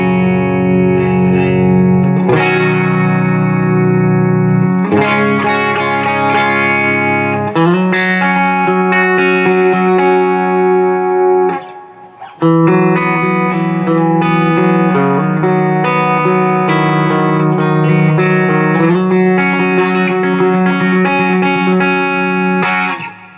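Electric guitar played through a clean amp and pedal board, ringing chords and notes with effects and reverb, loud and close, alone without talk, with a brief pause near the middle.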